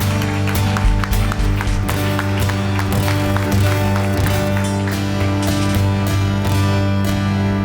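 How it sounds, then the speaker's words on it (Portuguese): Congregation clapping during a church service, continuous and fairly loud over a sustained low organ or keyboard drone, with scattered sharper claps throughout. "Vamos dar uma salva de palmas para o nosso autor e consumador da vida"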